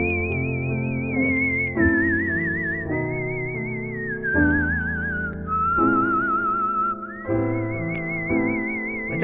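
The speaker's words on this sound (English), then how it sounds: "the whistling just wrecks the song" A whistler whistles a melodic rendition of Danny Boy from a CD, a clear sustained tune with vibrato gliding between held notes over a full instrumental accompaniment, loud and continuous throughout.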